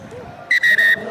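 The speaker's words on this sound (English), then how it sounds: "There's the half-time whistle." A referee's half-time whistle at a rugby sevens match between France and Russia blows three short shrill blasts in quick succession, loud and close, over faint crowd murmur.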